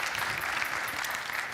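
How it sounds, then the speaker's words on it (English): A congregation at a youth group sermon claps in a short burst of steady, moderately distant applause with no voices over it. "Let's give a round of applause for Chris."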